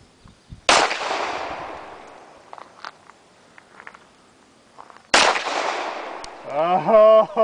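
Two sharp, loud gunshots fired at a 25 yard outdoor firing line at Brock's Gap, spaced several seconds apart, each leaving a decaying echo, with faint clicks in between and a voice talking at the end.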